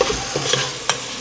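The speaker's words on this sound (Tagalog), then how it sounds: "Nagisa na yung ating luya," Ginger, onion and garlic are sautéed in a pan for batchoy: a brief, close sizzle broken by a few quick stirring scrapes.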